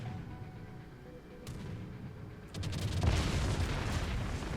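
Anti-aircraft defensive fire from an Atlanta cruiser in a naval warship video game: sharp bursts give way to dense, sustained loud crackling flak over a low background rumble.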